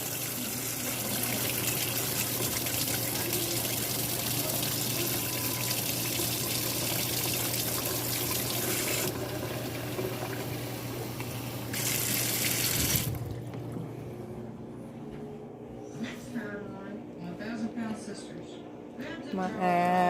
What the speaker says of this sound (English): Let me get the water hot.